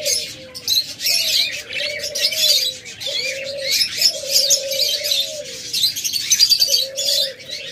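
Lutino red-eye pet birds, a breeding pair, chirp and call steadily with bright high twittering, over a repeated lower cooing from nearby doves, continuous and fairly close.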